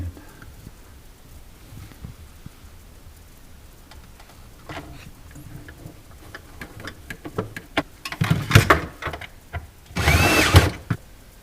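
A power drill drives stainless steel screws into a panel on a Sub-Zero 700TCI-2 refrigerator, with faint clicks and handling at first, then two louder whirring bursts near the end.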